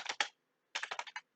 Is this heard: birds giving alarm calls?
no